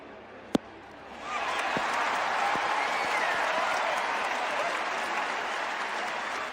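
Crowd applause in an Xbox 360 golf video game after a shot onto the green: a sharp click, then a steady, full wash of clapping and cheering that holds evenly for several seconds.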